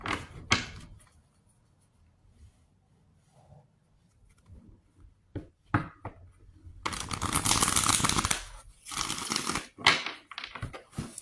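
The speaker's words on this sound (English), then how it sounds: "Let me give these a good shuffle." Tarot cards being shuffled by hand, heard as faint scattered taps at first and then loud, close bursts of riffling and flapping in two or three rough rounds.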